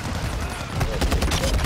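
Rapid automatic gunfire crackles in Modern Warfare 2, a dense fusillade of sharp shots over a second and a half, loud and close, with a player's voice mixed in.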